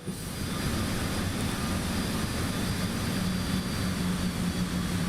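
Jet engine roar from a Cessna Citation X in Microsoft Flight Simulator 2024, a steady, loud broadband rumble with a low drone that holds unchanged through the replay, no voices.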